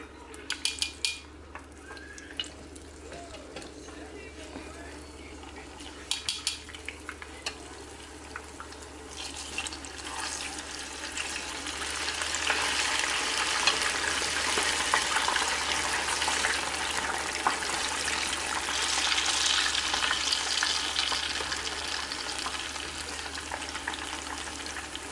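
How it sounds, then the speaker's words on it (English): Apple pie egg rolls fry in a pan, giving a continuous sizzle that grows louder and denser partway through, with occasional clinks of utensils early on and no voices. "I am going to go on and proceed to cook the rest"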